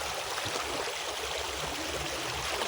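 A river stream flows in a hilly outdoor spot, a steady, soft broadband rush of water with no talk, even and continuous throughout.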